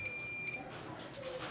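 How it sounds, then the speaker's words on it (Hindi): A multimeter continuity test beep: a faint, steady high-pitched tone from the meter sounding through the first half-second, then cutting off into quiet room noise. "तो आप सुन सकते हैं बीप की आवाज़ आ रही है।"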